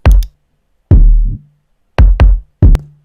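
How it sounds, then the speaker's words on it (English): Synth drum kit playing a programmed MIDI beat in BandLab: punchy, booming kicks and sharp hits in a sparse, irregular pattern with short gaps, loud and close, with no other sounds. "We've changed this one now to drum pad synth kit."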